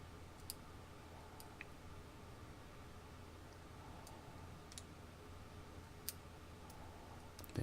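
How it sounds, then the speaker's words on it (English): Faint, sparse clicks of a lock pick inside a Schlage Master Pro 6621 core, a handful of tiny ticks scattered over a quiet hiss with no talking. "You can hear the clicking when I take the pick off."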